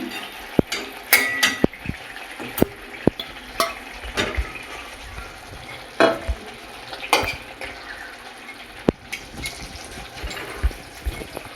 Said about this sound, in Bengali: এটা ফুটে উঠেছে মশলাটা এবারে মাছগুলো দিয়ে দেবো